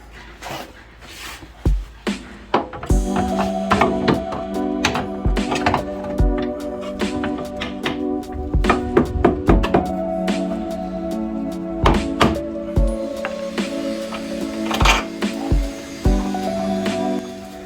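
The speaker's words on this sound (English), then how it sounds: "In the end, I had to get a crowbar and try and mangle it in." Heavy metallic thunks and knocks as a crowbar forces a lower suspension arm into place on a wrecked Audi S1, irregular loud blows and scrapes over about seventeen seconds.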